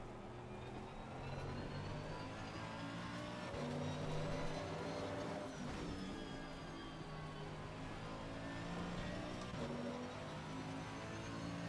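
A race car engine in Live for Speed at a wet Laguna Seca, droning steadily and up close with shifting pitch as revs rise and fall, alone without voices.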